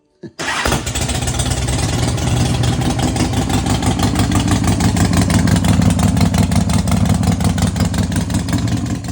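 A motorcycle engine kicks over in a shed and catches at once, then settles into a loud, steady idle that runs on without a break and with no voices.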